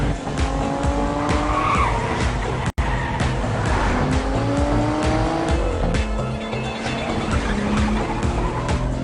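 A car drives fast with its tires repeatedly squealing and skidding, under a loud engine and road roar with a brief dropout partway through. No voices are heard.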